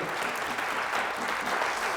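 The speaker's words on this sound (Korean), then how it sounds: "다시 한번 우리 영광의 박수 올려드리겠습니다" A church youth worship congregation at Oryun Church gives a steady round of applause, a dense, even wash of many hands clapping together with no voices standing out.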